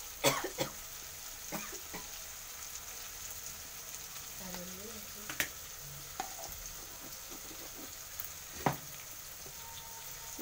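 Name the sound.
stirring food in a frying pan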